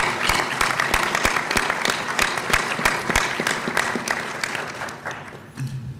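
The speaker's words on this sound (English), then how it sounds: "So could we give a round of applause for the sponsors?" Audience applause for the sponsors at an annual panel luncheon, a loud, steady round of many hands clapping that carries on for several seconds before tapering off.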